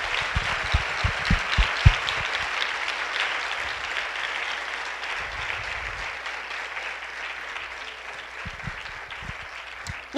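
A church congregation breaks into sustained applause, a dense, steady wash of clapping with a few sharper claps early on that fades slightly before a short noise at the very end.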